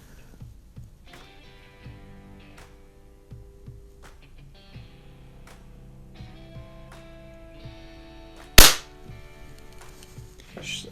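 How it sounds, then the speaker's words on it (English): A Daisy 717 .177 single-stroke pneumatic pellet pistol fires once, giving a sharp, loud crack that stands well above quiet background music and soft clatter. "I was shooting a little bit high"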